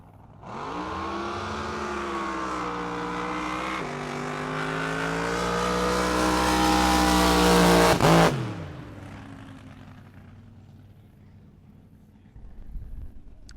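Drag boat engines roar at full power, loud and close, in a sustained high-pitched scream lasting about eight seconds with rising pitch, then cutting off abruptly and fading into quieter rumble, at drag boat finals in Paris, Texas.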